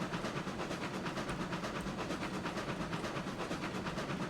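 A steam-era locomotive in a railroad simulation rolls steadily along, its rhythmic chuffing and clacking wheels forming an even, continuous pulse at moderate distance with no voices.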